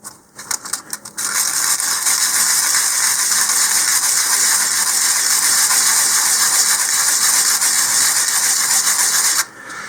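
A 3D printed part for a Mini-Initiator model rocket is sanded with 100 grit sandpaper, giving a loud, steady, close rasping hiss that runs nearly unbroken for about eight seconds after a few short scrapes at the start.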